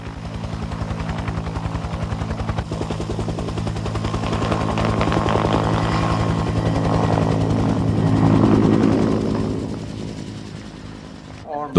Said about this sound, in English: The squads are returned to base by helicopter.